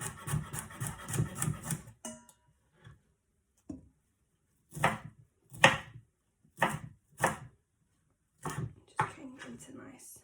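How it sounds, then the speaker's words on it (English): Knife strokes chop vegetables into chunks on a cutting board for a frittata: a burst of quick cuts, then sharp, separate chops spaced apart, close and clear, with a short stretch of talk at the start. "So just cutting it into kind of chunks like this"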